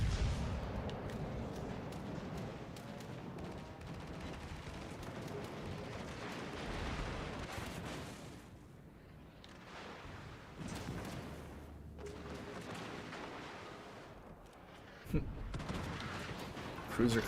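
Airstrike explosions in World of Warships: Legends roll as heavy, rumbling booms over continuous battle noise, with a sharper blast near the end; a voice talks at points.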